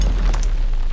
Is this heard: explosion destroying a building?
yes